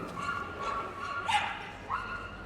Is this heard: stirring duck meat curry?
no